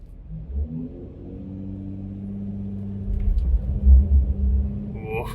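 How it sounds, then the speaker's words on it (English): A VW Touareg R-Line 4x4 struggles uphill on a rough green lane, its engine rumbling low and steady as the wheels spin, with heavier thumps and surges of effort toward the end. "Right, I've got wheels spinning."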